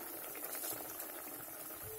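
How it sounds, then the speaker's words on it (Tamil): Water boiling in a pot with rice for mushroom pulav, a steady bubbling hiss that fills the whole short stretch at moderate level with no voices. "இப்ப கொதிக்கவும் ஆரம்பிச்சிருச்சு பாருங்க."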